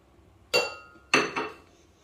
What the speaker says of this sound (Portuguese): Agora nós vamos misturar. Os ovos.